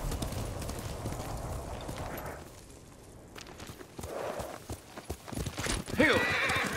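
Horse hooves clip-clop at a walk in the video game Ghost of Tsushima, followed by a sharp whinny near the end, with background ambience and some voice nearby.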